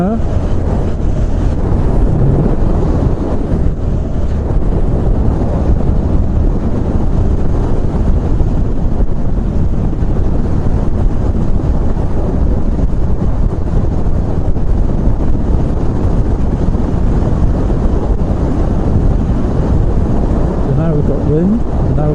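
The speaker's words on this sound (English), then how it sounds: "Wind" Heavy wind buffets a helmet-mounted mic as a motorcycle cruises at about 70 mph along a dual carriageway near the Conwy River tunnel, a loud, constant low roar that swamps everything else.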